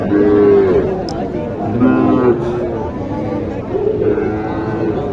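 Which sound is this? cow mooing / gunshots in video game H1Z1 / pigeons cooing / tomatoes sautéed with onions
cow mooing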